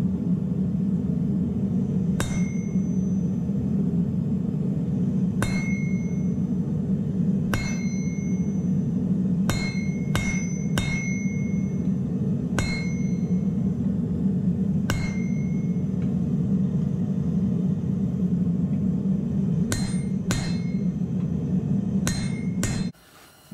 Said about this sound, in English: But gonna have to hot punch the hole and then, you know, flatten everything back out again